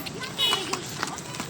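Horse hooves clip-clop on the ground during pony rides near a park in Islamabad, with a few scattered steps under near, constant children's and adults' chatter.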